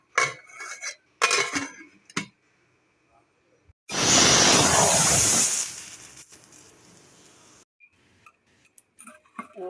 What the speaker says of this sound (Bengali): এবার আমি ডালটা ঢেকে দেবো